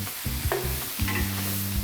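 Chopped parsley and garlic frying in a pan as the base for paella valenciana, a close steady sizzle with stirring scrapes and low hums, no talk.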